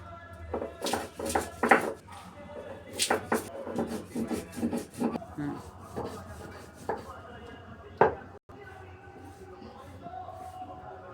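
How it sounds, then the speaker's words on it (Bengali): Two spices ground on a grinding stone make repeated rough scraping strokes in an uneven rhythm, close and fairly loud, with a sharp knock near the end. "আমি এই দুটো মশলা এখন ভালো করে বেটে নিয়ে আসব।"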